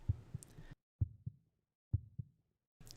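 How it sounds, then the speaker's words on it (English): A slow thumping heartbeat in spooky Halloween music: doubled lub-dub beats, low and muffled, repeating about once a second with silence between them. "Oh, this one's got a heartbeat."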